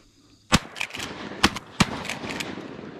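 During a hunt in Alaska, sharp, loud gun reports crack outdoors, with three quick bangs in close succession followed by faint rustling.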